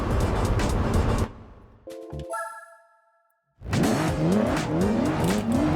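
Race car in Gran Turismo 4 roaring loudly as it passes an Audi, the engine broken by a brief sequence of electronic chime tones and a short near-silence, then surging back with rising and falling pitch.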